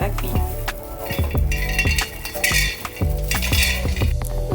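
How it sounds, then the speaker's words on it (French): Ginseng (api) roasting in an oiled pan for Ivorian foufou, with steady sizzling under repeated metal clinks and scrapes of a utensil stirring against the pan. "nous allons griller le ginseng ou le api"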